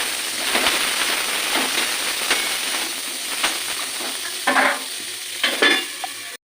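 Eggs and vegetables frying in a pan for khichuri, a loud steady crackling sizzle close up, with several sharper spits and stirring scrapes near the end before it cuts off.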